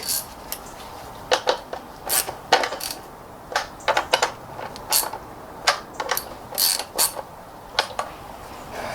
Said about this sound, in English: which is why I'm holding the ratchet with my hand